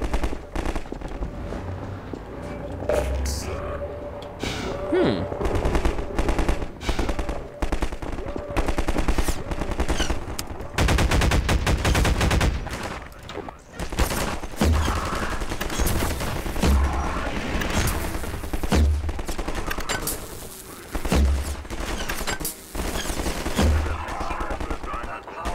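Bursts of rapid automatic gunfire and single shots in the Half-Life 2 game, loud and repeated in clusters with short pauses over a steady game background.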